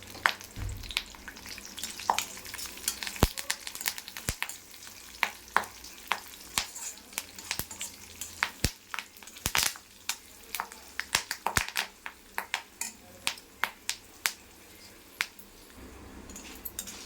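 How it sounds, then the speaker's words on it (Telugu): Asafoetida tempering crackles and sizzles in hot oil for a raw mango pickle, with dense, irregular sharp pops bursting close up over a steady fizzing hiss. "పోపు అంతా బాగా వేగిపోయిందండి"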